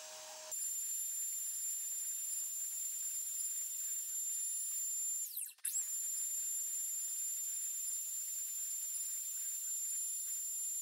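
A NymoLabs NBX-5040 CNC mill cuts aluminum sprockets, a steady high-pitched spindle whine with a faint hiss running throughout, briefly dipping and sweeping in pitch midway before settling back to a constant tone.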